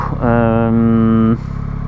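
A Yamaha MT-09 SP motorcycle pulls away, its engine rising in a brief, loud, close tone for about a second before easing back to a low rumble.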